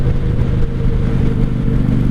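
A 1995 Honda Shadow VLX 600 (VT600CD) motorcycle engine runs steadily during a ride, a loud, close, continuous low throb with wind rush and no talk.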